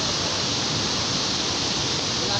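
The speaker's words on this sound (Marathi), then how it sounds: "वरून खूप जोरात पाणी पडतं" Bhivtas waterfall in the Surgana forest pours heavily from above in a steady, dense broadband rush of falling water, loud and close, with no gaps across the clip.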